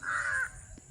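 A crow gives a single harsh caw, close and clear, in an early-morning village setting, followed by a brief quiet tail.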